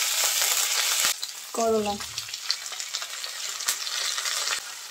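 Potatoes and bitter gourd hiss and sizzle in a pan of reddened fried onions, a steady, close frying noise that stays loud throughout, broken only by one brief spoken word.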